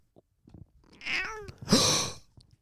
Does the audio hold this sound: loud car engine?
no